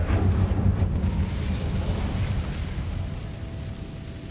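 An Incendio fire spell in Hogwarts Legacy erupts with a loud whooshing burst, then a rumbling, roaring flame that slowly tapers off over a few seconds.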